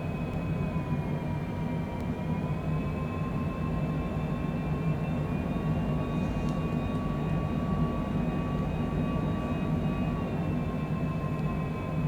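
Steady jet engine drone of a Cessna Citation Longitude on final approach in a flight simulator, a constant loud low rumble with a faint high whine held evenly throughout, no talking.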